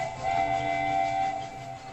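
Train running on tracks, used as a sound effect in a ghost story set on a last train at eleven at night: a steady, droning rumble with a sustained tonal hum, fairly quiet, and no voices.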